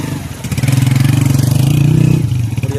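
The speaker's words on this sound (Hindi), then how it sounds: "एक मोटरसाइकिल, दो मोटरसाइकिल पार हो जाती है।" A motorcycle engine idles and revs up close and loud, a steady mid-pitched throb as motorcycles are ferried across a small stream on a traditional wooden boat in a Pakistani village.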